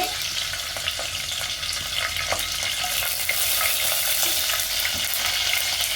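Cumin seeds and curry leaves fry in hot oil, giving a steady, close sizzle with crackling pops and occasional stirring scrapes throughout.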